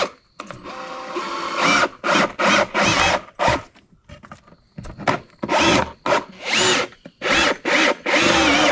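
Power drill driving screws into 2x2 wooden boards fastened beside a log, in repeated short bursts of whirring with brief pauses between, close and loud.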